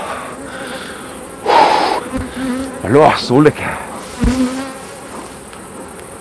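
Honeybees buzz around an old hive on an apiary, a steady insect drone with louder bursts close by, while a voice speaks briefly.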